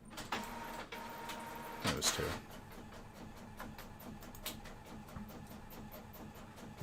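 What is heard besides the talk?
printer running and struggling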